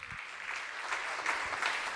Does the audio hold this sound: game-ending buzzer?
no